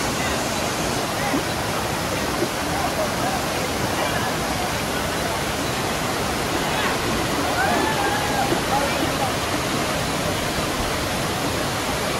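A trekking waterfall in Karnataka roars as a loud, steady broadband rush of falling water that fills the whole stretch without a break, with a faint voice barely audible beneath it.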